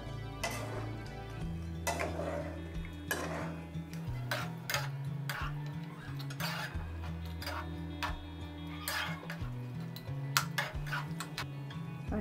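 A spoon stirs thick restaurant-style chicken korma gravy in a metal pot, giving repeated clinking scrapes and ticks in an irregular rhythm, close and moderately loud with no talking.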